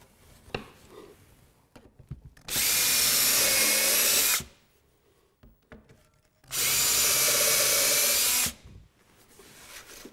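A power drill whines loudly through wood, drilling holes while building a corner cabinet, in two sustained bursts of about two seconds each, with quiet handling and shuffling between them.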